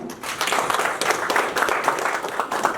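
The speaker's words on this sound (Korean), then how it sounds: "우리 모두를 위해서 박수 한번 치죠" Applause at a general meeting of a city council alumni association in a council meeting room, a dense, steady round of clapping from the gathered attendees lasting a few seconds.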